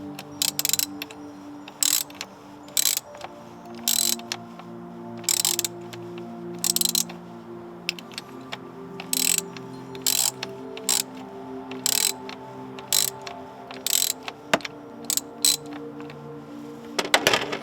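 A ratchet slowly loosens a tightening nut, giving faint clicking pawl sounds under a low mechanical hum, broken by a series of sharp metallic ticks at irregular intervals; nobody speaks.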